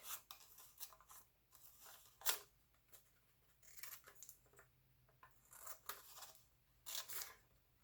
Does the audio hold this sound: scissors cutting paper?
yes